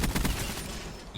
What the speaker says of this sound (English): if you just shoot them from a far distance